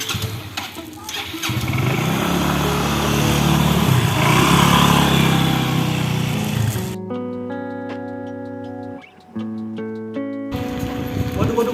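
Stalled motorcycle engine cranking and sputtering as it struggles to start, rough mid-pitched engine noise for several seconds before giving way to a sustained musical tone with a brief dip.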